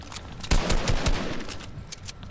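Rapid bursts of video game gunfire, a dense string of sharp shots peaking in the middle and tapering into scattered pops, close and loud with no talking.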